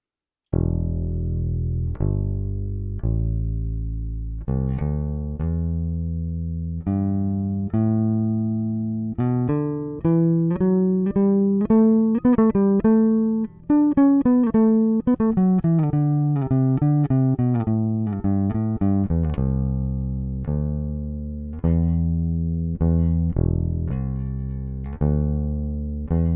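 Clean, dry bass guitar plays a steady run of notes with no effects, moving up and back down in pitch, alone and fairly loud throughout.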